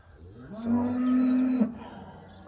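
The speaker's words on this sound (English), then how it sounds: "if you can hear me over the cows" A single dairy cow gives one long, drawn-out moo at close range on a dairy farm, rising and holding steady before breaking off, with quiet farmyard background around it.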